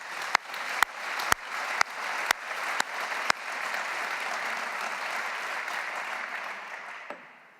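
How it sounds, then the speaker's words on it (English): An audience at a formal symposium gives a round of applause, opening with a few sharp, separate claps that quickly swell into a dense, steady roar of hands before cutting off fairly abruptly. "And give them a big round of applause, please."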